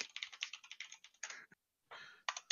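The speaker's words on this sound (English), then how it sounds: "Steel spring keyboard from the 80s" Fast typing on a 1980s steel spring computer keyboard, rapid clacky keystrokes in bursts with a short pause midway, close and crisp, no voices.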